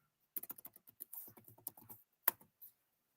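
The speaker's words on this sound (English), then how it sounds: "So let me type that in the chat." Rapid clicks of typing on a computer keyboard, close and crisp, coming in uneven bursts of keystrokes with a short pause before a final few taps.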